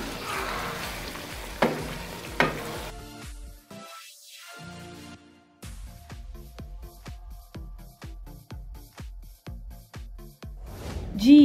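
Two tablespoons of yogurt are stirred into a Lahori beef karahi in a hot pan. Soft sizzling runs under a steady rhythm of repeated spoon strokes scraping the pan, close and clear.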